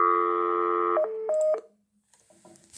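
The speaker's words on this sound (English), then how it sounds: "Dial tone" A sequence of telephone dialing tones beeps clearly, a long tone followed by a few short keypad beeps, then near silence with faint noise.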